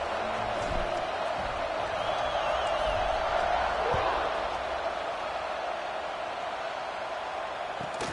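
Crowd in a packed American football stadium during a high school game in North Carolina, a broad sustained roar of cheering and whoops rising slightly then settling, with faint commentary voices underneath.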